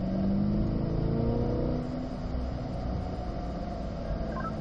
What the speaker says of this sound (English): Then we can accelerate a little more since we're straighter.